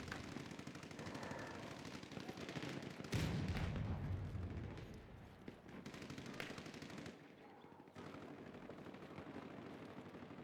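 Rapid automatic gunfire in the first-person shooter Battlefield 6, dense bursts of rifle and machine-gun fire with occasional heavier booms, continuous and fairly loud, dipping briefly before resuming.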